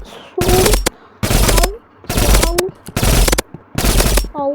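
Minigun fire in a video game, five loud close bursts of rapid automatic shots separated by short pauses, with a voice talking between bursts.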